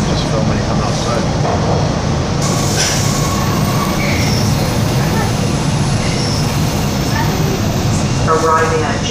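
A Toronto subway train runs through a tunnel, a loud continuous roar of wheels and motors with high squealing tones from the rails, while people talk over the noise.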